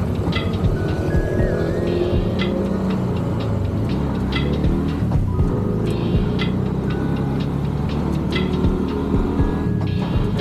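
Bajaj Maxima Z three-wheeler driving along with its engine throbbing and humming steadily throughout, a close, continuous motor drone with road rumble and no talk.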